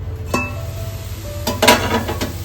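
Wild bharangi greens cooking in a pan with salt, giving a soft steady sizzle with a few sharp clinks and stirring scrapes of a utensil against the pot, close by with no talk.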